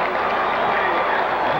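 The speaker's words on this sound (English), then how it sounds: "the home crowd has something to root for" Sellout home crowd of over 70,000 at Memorial Stadium during a 1985 college football game, Michigan at Illinois, producing a loud, dense, continuous roar of cheering and applause.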